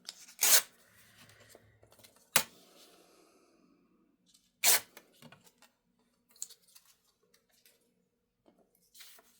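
Paper or a similar sheet torn apart by hand, a few sharp ripping bursts separated by quiet stretches with soft rustling and handling noises, close and alone.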